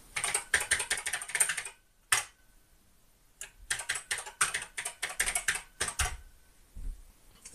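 A password is typed on the keyboard of an Acorn BBC Master 128 computer. Two close, crisp bursts of rapid keystrokes are separated by a quiet pause, and a few final key taps follow.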